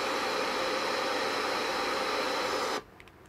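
An FM radio tuned to an empty station hisses with loud, steady broadband static that cuts off abruptly near the end, leaving near silence.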